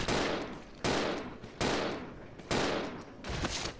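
Four heavy in-game gunshots from Resident Evil 0, each a loud sharp blast spaced under a second apart with a decaying tail, with no talking over them.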